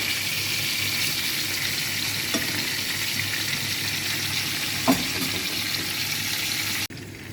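Gentle, steady sizzle of food frying in a pan over a low gas flame, a soft continuous hiss with a few faint clicks, ending in an abrupt cut.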